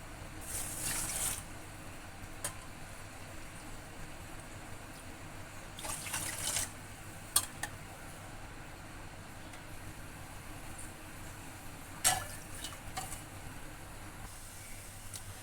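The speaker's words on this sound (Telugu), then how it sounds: "ఏ కప్పుతో అయితే షుగర్ వేసుకున్నామో ఆ కప్తో రెండు కప్పులు నీళ్ళు వేసుకోవాలి" Water is poured into a pot on the stove for sugar syrup, coming as a few short, faint splashing bursts spread over a quiet, steady background hum.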